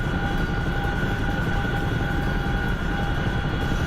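A friendly Chinook helicopter flying in during a video game, a steady loud rumbling drone with a low throb and a faint whine on top, holding constant throughout with no talk.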